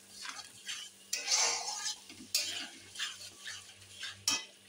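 Masala spices for chana masala being stir-fried in a pan, with soft scraping spatula strokes, light clinks and a faint sizzle in quick irregular bursts, close and quiet.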